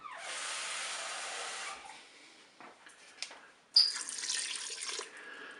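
Water pours from a tap into a Cookeo multicooker pot holding penne and chicken, a steady hissing stream for about two seconds, then a quiet pause with small clatters before a second louder burst of running water.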